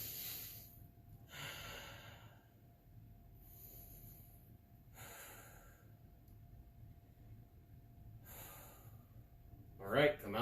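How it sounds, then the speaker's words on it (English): Deep, slow breathing during a stretching session, with several long audible inhales and exhales spaced a couple of seconds apart, close and moderately loud, ending with a short burst of rustling. "Let's do 3 big breaths."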